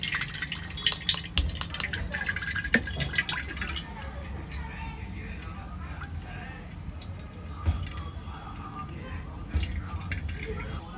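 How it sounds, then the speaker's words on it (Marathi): Water for pani puri is strained in a home kitchen, a steady patter of drips and trickling liquid running for several seconds while someone talks. "मी इथेच पाणी गाळून घेते"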